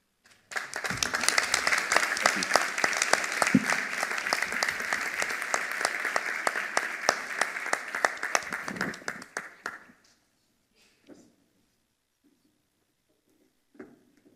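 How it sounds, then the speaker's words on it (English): At an entrepreneur showcase, an audience claps for a presenter, with steady, dense applause lasting about nine seconds before it quickly fades into near silence broken by faint stray sounds. "Can we have one more round of applause for Nathan there?"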